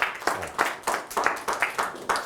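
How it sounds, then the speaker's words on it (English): Eight sharp hand claps come at an even, brisk rhythm. They are close and clear, with no voices over them. "add the energy with the claps"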